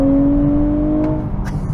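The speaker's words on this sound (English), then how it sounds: "So the engine note sounds really good" A 2023 Nissan Z with an automatic transmission accelerates hard in sport mode, a steady engine drone that fades toward the end, where a couple of brief clicks are heard.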